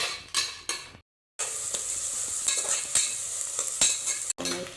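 Onions and curry leaves frying in an oil pan for beef pepper fry, a steady close sizzle stirred with a spoon that scrapes and clinks against the pan, broken by a brief silent gap.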